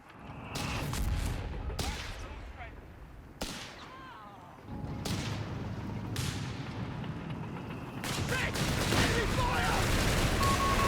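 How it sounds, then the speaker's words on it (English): Mortar barrage in Company of Heroes 3 during a 2v2 match, with several sharp, loud impacts spaced a second or two apart over a constant din of battle and gunfire. "Looks like a bit of a whiff on that mortar barrage there for Ted"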